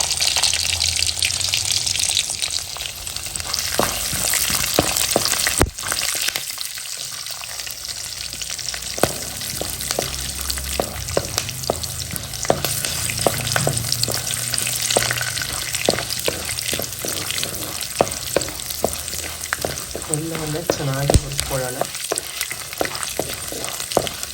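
Chana dal, urad dal, green chillies and peanuts crackle and sizzle steadily in hot oil, a continuous dense frying hiss with occasional spoon scrapes and stirring clatter throughout.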